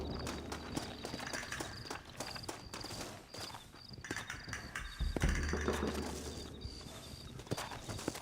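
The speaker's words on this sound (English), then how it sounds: "Looks like Carlos left us some horses." Horse hooves clip-clop at a walking pace in the Red Dead Redemption video game, a steady, moderately faint rhythm over an outdoor ambience with crickets and birds.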